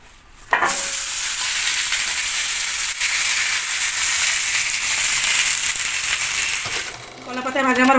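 Egg paturi wrapped in banana leaf fries in a pan with a bright, steady sizzle and hiss, broken by a brief clatter, then a few soft words over the frying at the end.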